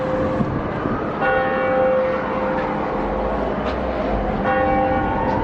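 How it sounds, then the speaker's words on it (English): Prague tower church bells ring out for five o'clock, ringing tones sounding repeatedly over a broad wash of city and street noise heard from up high on the tower. "There's the 5 o'clock chimes."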